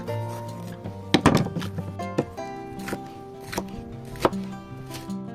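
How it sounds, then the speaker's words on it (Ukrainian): A knife chops sweet pepper on a board, with several close, sharp thunks coming irregularly in a small burst and then spaced apart. "Поріжемо наш перчик."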